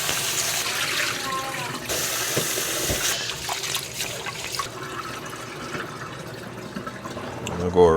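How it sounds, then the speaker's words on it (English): Long grain rice being washed in room temperature water for Jamaican rice and peas, with steady running and splashing water throughout and a person talking over it. "So room temperature water to wash the rice."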